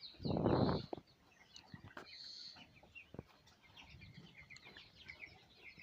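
Hens cluck on a small poultry farm, starting with a loud close burst of clucking and squawking. Fainter intermittent clucks and light rustling follow.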